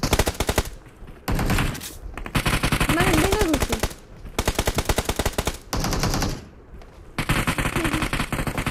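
Rapid automatic gunfire from PUBG Mobile gameplay, with sustained machine-gun bursts separated by short pauses, loud and close throughout.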